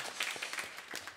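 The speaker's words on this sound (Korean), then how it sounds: "우리 우재원 집사님 우리 격려하는 박수 한번 하겠습니다" Church congregation clapping in encouragement during a worship service, a short, dense burst of many hands applauding together.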